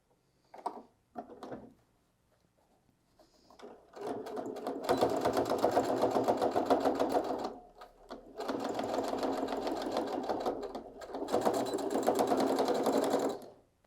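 A sewing machine stitches the final seam of a fabric toiletry pouch, running in three steady, buzzing bursts after a few short clicks, close and fairly quiet.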